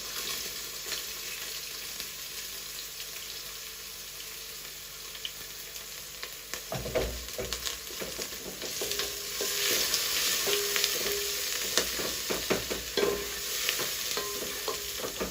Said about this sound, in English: So I've added in our bay leaves and then our onions so that you can saute them.